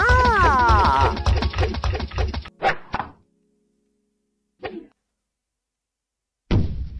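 A brick strikes in the video game Whack Your Ex as a few heavy thuds and thwacks after a busy burst of game sound, then a lone later hit and a final burst, separated by silence.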